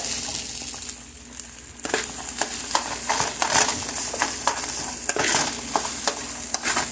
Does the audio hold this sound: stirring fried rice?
yes